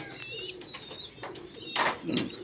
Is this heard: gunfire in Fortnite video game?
no